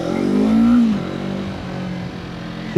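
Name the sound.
Yamaha MT-03 motorcycle engine revving while riding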